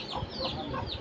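Chickens cluck softly and continuously nearby, a quiet overlapping chatter of hens with no one speaking.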